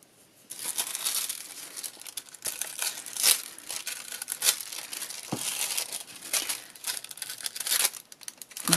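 Steady crinkling of foil being pressed onto sticky tape for handmade decorative tape, close and continuous with small crackling bursts throughout and no talking.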